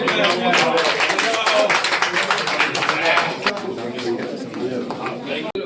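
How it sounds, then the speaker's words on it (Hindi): An audience at the Bundelkhand International Film Festival breaks into dense, loud clapping that carries on steadily, then thins and fades toward the end, with chatter and voices mixed in. "अब कायदे से ताली बजाओ जो"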